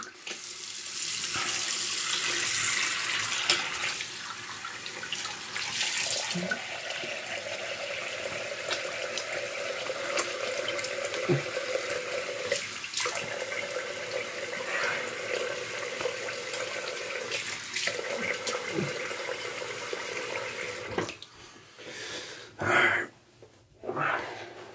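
A bathroom tap runs steadily as someone rinses off after a shave with a slant safety razor. The flow is close and continuous for about twenty seconds, then stops, leaving a few short splashes and drips.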